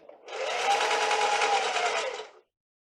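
A sewing machine runs a straight stitch through gingham or striped fabric, a steady fast whir lasting about two seconds before stopping abruptly, close and loud with no talk.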